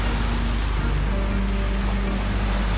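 Beach surf rolls continuously alongside a moving vehicle, a broad steady wash of waves mixed with wind and a low road rumble, with no voices.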